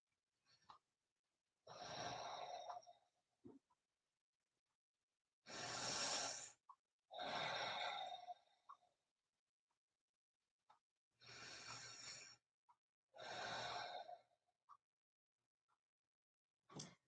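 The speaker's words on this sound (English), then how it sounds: "let's take a few deep breaths" Slow deep breaths drawn in and let out, several long airy breaths close to the mic, separated by stretches of near silence.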